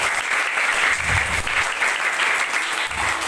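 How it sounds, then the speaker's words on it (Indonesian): Schoolchildren applaud steadily at an Islamic motivation session in an elementary school, a dense, even clapping from a group of kids that holds at the same level throughout. "Tepuk tangan dulu dong."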